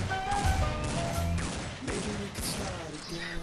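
AK47 or Deagle gunfire in a video game, a short burst of sharp shots over a busy game soundscape, with a voice talking over them.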